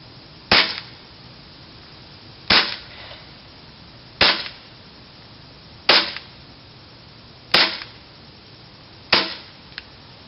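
A Tokyo Marui FN 5-7 airsoft pistol fires six sharp single shots on duster gas, spaced about two seconds apart, each a loud close crack with a short tail over a quiet background.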